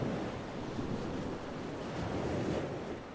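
Ocean surf rolling onto a beach during an outdoor yoga session, a soft continuous wash of waves with gentle swells and some wind rumble on the microphone, fairly faint and with no voices.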